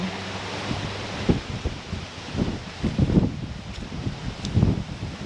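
Garden plants, including a small hosta, rustle in a breeze in a suburban backyard, a soft continuous whoosh with gusty swells and faint leafy shuffling.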